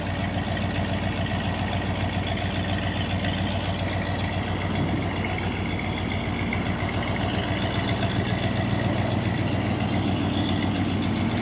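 Cold engine of a 1984 Chevrolet Scottsdale C20 pickup ticking over at idle, a steady low drone heard up close, unchanging throughout with no talk over it.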